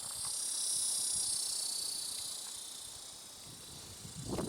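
Cicadas buzz in hot Arizona desert heat, a continuous high-pitched shrill drone that holds steady and loud throughout, with faint scuffing noises underneath.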